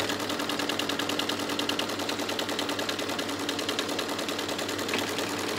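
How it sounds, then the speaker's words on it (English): In-the-hoop embroidery machine stitching a square outline on a mug rug: a steady, rapid mechanical needle rattle that runs loud and continuous throughout. "it's just going to stitch a square around"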